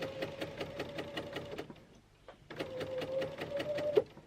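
A sewing machine stitching piping around a loop, running in a fast steady rhythmic whir, pausing briefly mid-way, then resuming up close.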